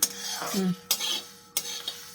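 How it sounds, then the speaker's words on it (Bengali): Roasted spices, including fenugreek, are stirred in a hot kadai for an amla pickle, giving a few sharp metallic scrapes and clinks of the spoon against the pan, close and fairly quiet. "একটু কড়াই গরম অবস্থাতে একটুখানি নাড়াচাড়া করে নিই"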